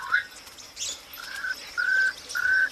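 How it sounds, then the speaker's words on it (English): Several short, clear whistled calls of a Swainson's francolin repeat at a steady pace on the African savanna, each a brief level note, close and fairly loud against quiet background. "Swainson's Franklin. For such a small bird, they have a big voice."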